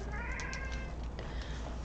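A large cat meows in a drawn-out, slightly wavering cry close by, sounding over a steady background hum with no talking.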